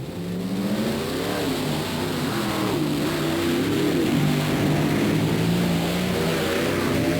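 Monster trucks race at a 1990 show in Bowling Green, Ohio, a GMC pickup against the Chevrolet Equalizer, with loud continuous engine roar rising and falling in pitch as the drivers hold the throttle.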